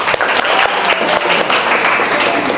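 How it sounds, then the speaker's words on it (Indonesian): A classroom group claps loudly and steadily in a dense, continuous burst of applause up close. "Tepuk tangan."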